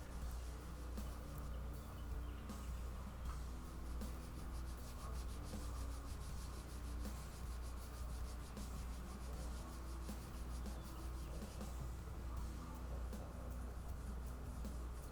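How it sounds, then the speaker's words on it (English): 400 grit sandpaper rubbed over a broken and repaired Gibson guitar headstock, a steady close scratchy sanding in continuous back-and-forth strokes, quiet and unbroken throughout. "Here's some 400 grit sandpaper right here."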